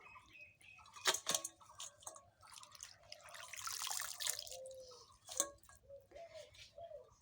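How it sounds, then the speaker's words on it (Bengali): Freshly washed leafy greens, bathua shak, drip water back into a bowl, giving faint, irregular splashes and trickles close by with no talk. "একটু বেশি করে জল দিয়ে ধুয়ে নিতে হবে ভালোভাবে জল ঝরিয়ে তুলে নিতে হবে"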